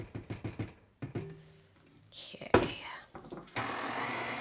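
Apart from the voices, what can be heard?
blender mixing vegan coconut cake batter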